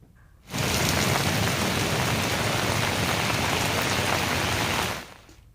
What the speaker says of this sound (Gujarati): આજે વરસાદની હેલી યથાવત છે